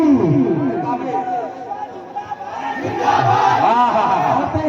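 Crowd at a mushaira poetry gathering shouts a loud chanted response to a Nara-e-Takbir call, overlapping voices roaring together, dipping briefly and then swelling again.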